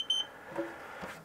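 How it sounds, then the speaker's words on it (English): A single short, high electronic beep from a Xiaomi air purifier being reset, fairly faint, followed by quiet handling noise. "until we hear a beep"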